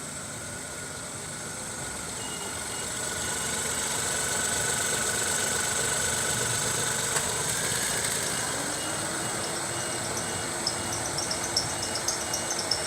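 A 2015 Kia Ray engine idles steadily with a low continuous rumble and faint higher whine, no talking, holding even throughout.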